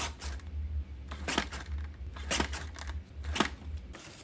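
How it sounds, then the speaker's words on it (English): Paper cutter slicing the outer edges of sticker paper for a zine, a run of crisp separate cuts and rustles at close range, fairly quiet, with no voices. "I'll trim the outside on the paper cutter."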